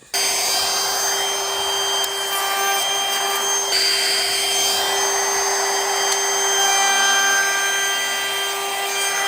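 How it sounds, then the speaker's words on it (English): Router cutting a small bevel along wooden door rails in a joinery workshop, a loud continuous high whine with a steady abrasive cutting hiss throughout, no talking. "just hold that in place, run the router over, and get this beautiful little bevel"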